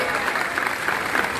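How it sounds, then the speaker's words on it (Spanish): A crowd applauds loudly and steadily at an outdoor political rally in Barranca, La Guajira, a dense, continuous wash of clapping with no break. "Ese aplauso fuerte"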